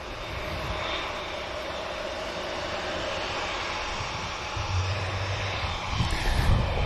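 An airliner takes off and rotates at Manchester Airport, its engine roar a broad, steady rumble that swells slightly toward the end, heard from a distance.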